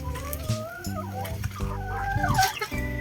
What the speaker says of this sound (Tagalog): ito po yung aming mga manok na naninitlog